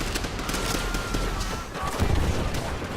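Dense machine gun and rifle fire in a World War II battle in World at War, continuous bursts with booming impacts, loud and close, while voices shout orders over it.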